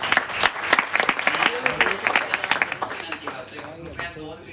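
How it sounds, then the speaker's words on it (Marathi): Applause for the Maharaj at a youth forum ceremony, a crowd clapping loudly and steadily for a few seconds before fading slightly. "महाराजांसाठी जोरदार टाळ्या होत्या."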